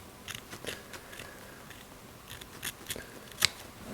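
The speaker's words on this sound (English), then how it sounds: "This is where these super strong scissors really do come into their own." Strong scissors cut the cuffs off old trousers in a series of crisp snips through fabric, spaced irregularly, close and fairly quiet, with one sharper snip near the end.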